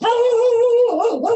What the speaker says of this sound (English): She put it off because her dog was barking